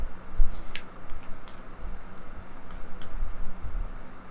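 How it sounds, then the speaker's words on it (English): A tarot card deck shuffled by hand, giving soft papery riffles and flicks that come in brief bursts over a faint steady background, fairly close and moderately quiet. "I need to shuffle more into this deck."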